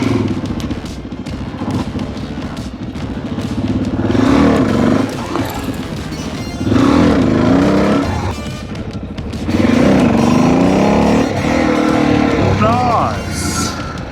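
A motorcycle engine revs in surges while the rider pulls power wheelies, each loud throttle burst lasting a couple of seconds, with easing-off gaps and clattering mechanical noise between.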